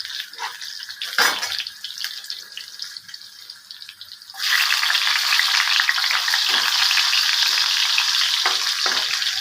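Radish pieces frying in hot oil, a quieter sizzle with a sharp clatter early on, then a loud steady hiss and crackle rising midway and holding to the end.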